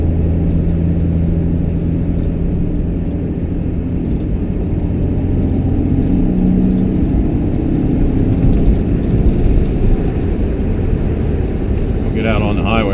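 A 1966 Ford Mustang coupe's engine drones steadily from inside the cabin while driving, a low continuous rumble with road and wind noise, with someone talking over it throughout.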